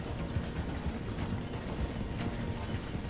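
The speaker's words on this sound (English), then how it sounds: "The train is slowing down to go through the station." Steady rumble and clatter of a steam train rolling along the rails as it slows through a station in Red Dead Redemption 2, a continuous dense noise with faint rhythmic clicks across the whole stretch and no talk.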